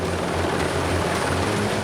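Helicopter in flight during a gendarmerie commando operation over equatorial forest in French Guiana: a loud, continuous rotor and engine roar with steady low thumping, close and unbroken for the whole stretch.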